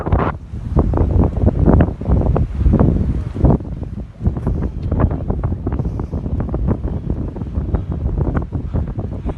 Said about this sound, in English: It's a bit windy, everybody